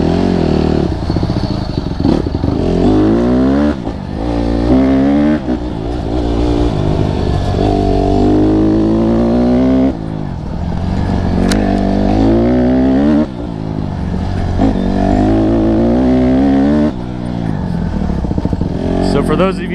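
Honda CRF150RB dirt bike fitted with a flywheel weight, its engine revving repeatedly in rising and falling bursts close by, loud and rough, with people talking over it at times.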